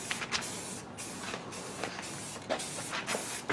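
A spray can sprays paint onto the back of a car bumper, a Honda CR-V trim job: soft hissing bursts in short repeated passes, fairly quiet and close, with no talk.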